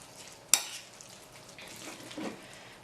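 A spaghetti squash gratin mixture is stirred in a bowl, soft scraping and wet shuffling with a sharp utensil clink at the start and another at the end, close and quiet.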